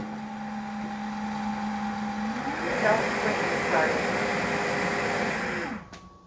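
A Narwal Freo Z Ultra robot vacuum auto-emptying at its base station, a steady motor hum that surges into a louder rushing whoosh for a few seconds, then cuts off abruptly.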